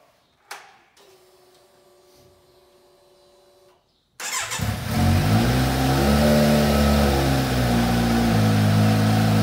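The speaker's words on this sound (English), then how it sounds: "Absolutely awesome engine note out of the exhaust" A Kawasaki Z900 motorcycle gets a brief click and starter whirr, a pause, then the engine fires loudly and settles into a strong, rising idle with revving close by.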